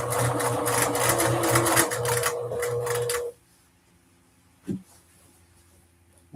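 A sewing machine runs fast, stitching fabric for a custom dress with a dense, steady mechanical whir for about three seconds, then stops. A single soft knock follows in the quiet.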